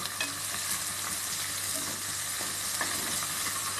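Sliced large onions with curry leaves and green chilies fry and sizzle in hot oil for a Tamil mutton intestine curry, a steady close crackle with occasional stirring scrapes.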